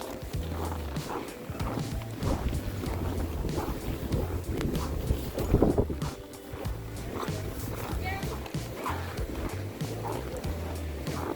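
Strong wind at Snow Valley ski resort in near-whiteout February conditions, a constant roaring rush buffeting the microphone with a louder gust midway and faint voices underneath.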